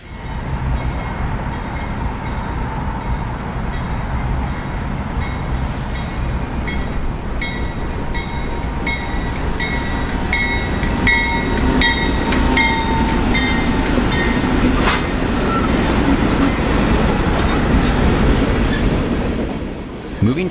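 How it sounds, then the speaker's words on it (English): Norfolk Southern train 304 rolls out of a passing siding and heads west, a loud continuous rumble of rail cars with rhythmic clickety-clack from the wheels and some thin squealing, building slightly over time. "304 rolls out of the passing siding at Enon and heads west."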